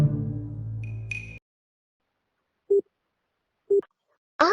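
A telephone busy tone after dialing a number: short, evenly spaced beeps following a brief burst of ringing hum and a high tone, clear and alone against silence.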